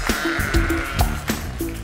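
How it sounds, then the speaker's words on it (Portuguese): A sheep bleats several times close by, wavering nasal calls in quick succession, loud and clear with no voices over them. "E a resposta é... uma ovelha!"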